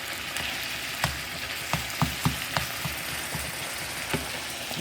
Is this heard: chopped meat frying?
yes